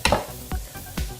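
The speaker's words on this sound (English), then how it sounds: "Again, that sizzle. You just want a nice sizzle." Chopped onion frying in a pan while stuffed bell peppers are being prepared, giving a short burst of sizzle with three quick clattering stirs, close by.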